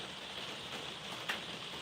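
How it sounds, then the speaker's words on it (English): Rain falling in Liverpool, a steady, even hiss of drops at moderate loudness with one brief louder patter partway through and no voices. "This rain is horrible"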